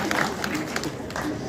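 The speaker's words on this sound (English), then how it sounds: "Please, can we clap?" An audience at a school music festival gives brief, fairly faint applause, a soft patter of scattered claps mixed with murmuring voices in a large room.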